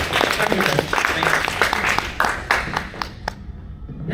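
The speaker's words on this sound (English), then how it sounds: "Can we have a round of applause for Raymond?" An audience at a Toastmasters-style table topics session claps warmly, with dense applause that thins out into a few scattered claps before falling quiet near the end.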